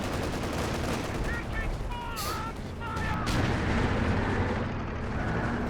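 An artillery barrage in Company of Heroes 2 during a 3v3 match with howitzers, dense rumbling booms and gunfire blending into a continuous roar while a voice talks over it.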